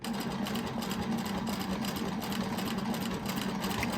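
Domestic sewing machine stitching a scrap quilt, a fast, steady mechanical whirr with a continuous rapid needle rhythm, fairly close and even in level throughout.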